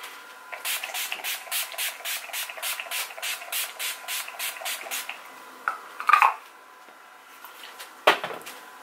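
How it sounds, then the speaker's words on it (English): Urban Decay The Sleek Makeup Setting Spray Oil Control mists out in about fifteen quick, evenly spaced spritzes, close and fairly soft, followed by a few brief rustling handling noises. "I will use also my Urban Decay The Sleek Makeup Setting Spray Oil"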